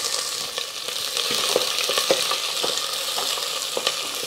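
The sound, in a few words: onion and garlic frying in a pan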